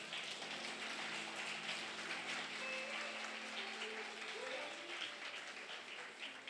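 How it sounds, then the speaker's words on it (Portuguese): A large crowd applauds steadily throughout at a church service, a dense, even wash of clapping that stays loud from start to finish. "Você pode aplaudir ao Senhor nessa noite?"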